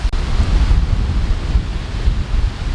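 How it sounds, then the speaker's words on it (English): Strong wind at a beach buffets the microphone in heavy low rumbling gusts, with surf washing in the background, steady throughout. "You can hear the wind now"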